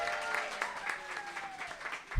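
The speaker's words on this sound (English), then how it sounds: "Round of applause for Jim Henson." Audience clapping for Jim Henson at a Labyrinth 30th anniversary show, moderately loud applause with a voice speaking over part of it and a rising tone sweeping through.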